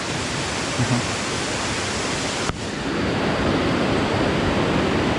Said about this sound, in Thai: ข้างหน้าเราก็จะเป็นน้ำตกเป็นชั้นๆมานะครับ